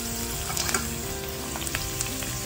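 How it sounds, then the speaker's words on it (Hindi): Onions sautéing in a pan for homestyle fried rice, a steady close sizzle with faint stirring scrapes running throughout, no voices. "तो देखिए हमारे प्याज 2 से 3 मिनट तक सौते हो गए हैं"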